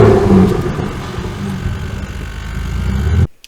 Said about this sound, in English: here's a video of me driving on the highway